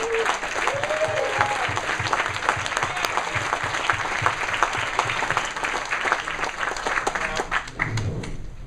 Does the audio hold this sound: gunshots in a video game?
no